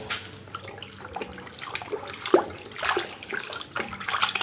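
A piece of foam is rinsed in water while smoothing a plain cement wall, giving close, uneven splashing and dripping sounds in irregular bursts, with no talking.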